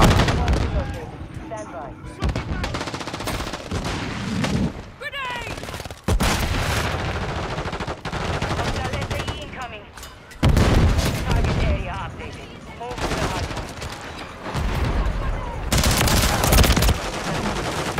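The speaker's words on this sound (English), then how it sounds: "They keep on throwing nades" Grenades bursting and rapid gunfire in a first-person shooter video game, with repeated loud blasts and bursts of shots throughout, while a player talks over the action.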